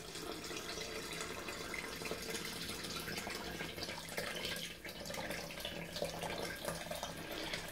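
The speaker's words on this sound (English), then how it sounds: "I will put water." Water from a tap pours steadily into a container while preparing a keto meal replacement in a kitchen, a continuous close rushing stream without talk.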